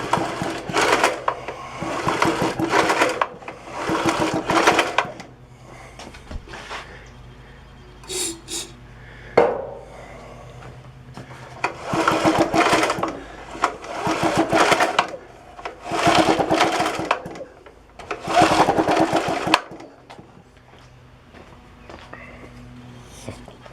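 Old Briggs and Stratton engine, oiled with fogging oil and unused for years, pulled over by its starter: several rhythmic bursts of churning and ratcheting, each lasting a couple of seconds, separated by short pauses and handling noises.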